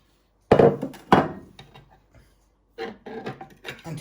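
A tart dish with Manchester tart filling is tapped on a hard surface: two sharp, close knocks, then a few lighter rattling taps.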